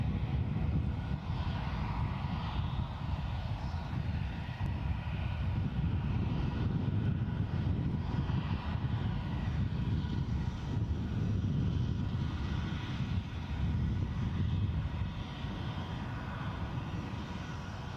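An Airbus A320 passes at Edinburgh Airport with a steady, moderately distant engine roar and rumble that holds evenly throughout, with no voices over it.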